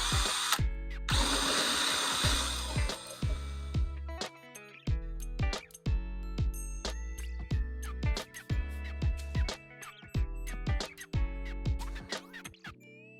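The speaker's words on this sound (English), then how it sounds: "let me drill a starter hole for the hook" A power drill whirs in repeated short bursts while drilling a starter hole for a hook in a garage, starting and stopping about a dozen times with brief pauses between, close and loud.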